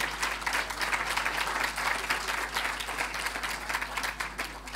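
Audience applause for a panel at a school of governance event, a steady, dense clapping from a full room that holds level for several seconds with no talk over it.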